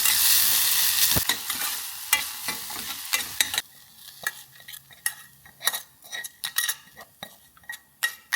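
Mustard seeds, a dried red chilli and curry leaves sizzle in hot oil for tempering, with a steady frying hiss at first, then sharp spoon scrapes and clinks against the pan as they are stirred.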